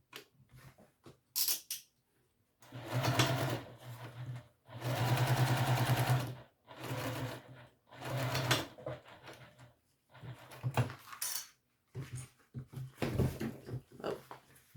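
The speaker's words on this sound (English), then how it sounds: "we'll go ahead and press our seams out and top stitch at the seams" Sewing machine running in bursts while top stitching along pressed seams of a garment, with several short runs and a longer steady stretch of fast motor hum and needle clatter, pausing between passes, close and clear.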